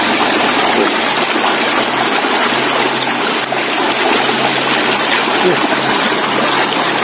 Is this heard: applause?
no